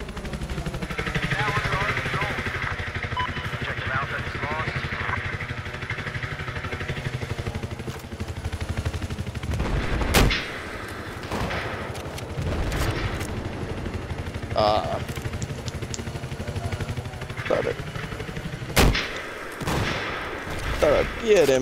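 Gunfire rings out in a Battlefield video game match, with sharp single shots like sniper fire and scattered bursts over a droning engine or helicopter hum. A player talks throughout.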